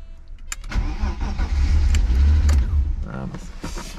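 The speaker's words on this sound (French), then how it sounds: "On part sur un démarrage." A car engine cranking and catching after a head gasket replacement, then settling into a steady mid-pitched idle, close and fairly loud, with brief voices over it.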